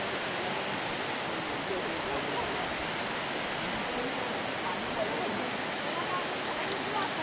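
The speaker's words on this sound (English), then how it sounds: "Water is going underground and coming out here." Water rushing under landslide debris near Thoseghar waterfall, a dense, constant roar of flowing water filling the scene at steady loudness throughout, with no talking.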